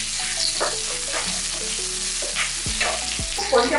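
Mustard seeds, ginger, green chillies and garlic sizzle steadily in hot oil with occasional stirring, a close, continuous frying hiss with no voices.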